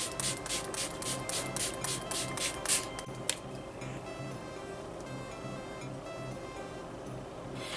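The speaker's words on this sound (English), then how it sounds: "I'm going to be setting it with the Slay All Day setting spray" A quick run of about nine short spritzes of makeup setting spray misted onto a face in steady rhythm, then a final burst, followed by quiet background hiss.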